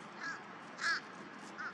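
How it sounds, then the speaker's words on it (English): Crows caw outdoors near a pool, three separate harsh calls spaced about half a second apart, moderately loud and slightly distant, with no talking. "I think he's a little concerned about those crows calling in the background."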